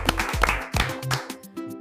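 A class of students claps for a classmate during a beginner Yorùbá lesson: a short burst of several sharp hand claps, fairly close, with a low background hum.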